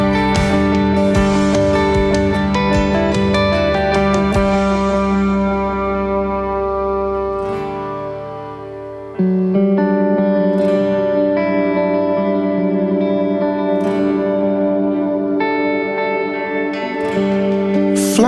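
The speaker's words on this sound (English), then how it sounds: "Here, I've turned the reverb mix and decay up for a big ambient tone for the breakdown bridge." Electric guitar played through a Line 6 pedal set for a big ambient reverb with long decay, sustained chords ringing and washing into each other, a brief dip before a fresh strum, heard alone without talk.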